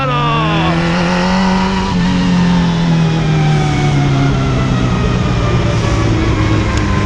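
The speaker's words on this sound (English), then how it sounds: "just to show the throttle blip" A motorcycle engine revs hard and loud on track while cornering for knee dragging, its pitch sliding down and climbing again under throttle, with the roar filling the whole stretch.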